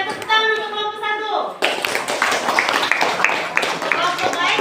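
A teacher's voice comes first, then schoolchildren in a classroom burst into clapping for a student group, a dense, close, lively patter of small hands that keeps going to the end.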